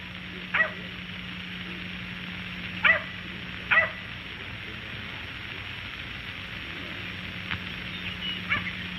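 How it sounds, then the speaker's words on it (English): A dog barks three times in short, fairly faint bursts during an old 1946 Hollywood comedy film scene, heard over a steady low hum with no talk. "I got the dog on my hands."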